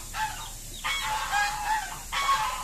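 A flock of egg-laying ducks calls continuously and fairly loudly at close range, with overlapping nasal quacks and no voices.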